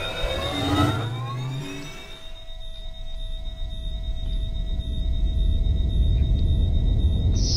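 A Halo Pelican dropship lifting off in a flight game, with a sustained jet-engine rumble and whine that builds steadily and stays loud and close, with no one talking.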